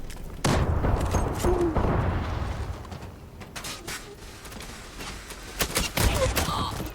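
Gunfire in the online shooter game Zula rattles in dense bursts, loud and close, with sharp repeated shots scattered through the span, a short rapid volley near the end, and faint mechanical clicks between them.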